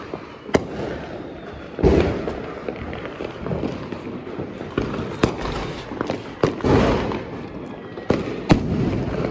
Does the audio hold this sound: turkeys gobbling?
no